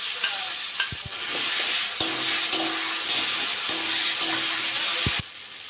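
A spice paste of tomato, ginger, garlic and onion with turmeric sizzles loudly in a pan with potatoes and peas, with steady frying hiss broken by several sharp spatula taps and scrapes before the sizzle drops abruptly near the end.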